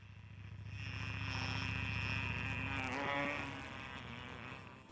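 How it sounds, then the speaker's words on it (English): A loud, sustained droning buzz from a Sudeten bumblebee, a large female, close by and steady for several seconds, with the pitch wavering and rising slightly partway through. "It buzzes incredibly loud."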